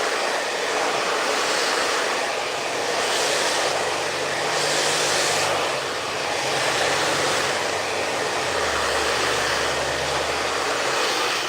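A steady, loud blow dryer whooshes continuously with a broad airy roar, its pitch shifting slightly as it moves, no talking.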